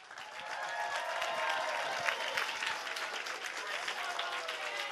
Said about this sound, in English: Let's give another fine round of applause for our 2 state finalists.